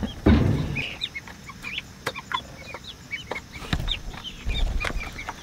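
Several chickens cluck and chirp close by in short, scattered calls, with occasional rustling and a bump or two in between.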